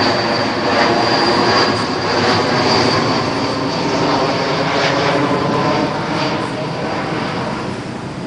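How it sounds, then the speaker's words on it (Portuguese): A propeller airplane passes low overhead, a loud, steady engine drone filling the whole stretch and fading only slightly toward the end. "Espera, avião! Pode parar."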